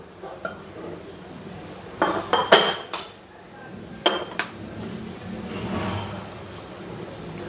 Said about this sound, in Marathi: हे मिश्रण आता मिक्स करून घ्यायचं आहे